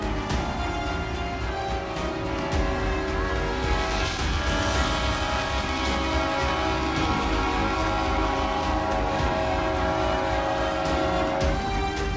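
Train horn blaring in long sustained tones over rumbling rail noise, loud and close and running throughout, with no clear impact crash standing out.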